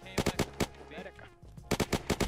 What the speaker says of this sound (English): They're just like shooting everybody right now.